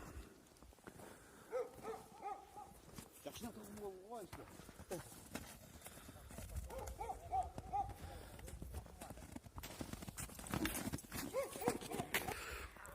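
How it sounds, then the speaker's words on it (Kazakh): A trained horse gallops toward the listener, hooves clip-clopping in quick uneven beats at moderate distance, while someone talks over it throughout and other voices and ambient noise fill the background. "Мына достор, атты мынтип чаап да келатат."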